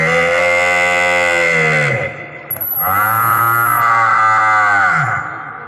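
A performer on stage imitates a cow calf, giving two long, loud, drawn-out lowing calls with a short pause between them.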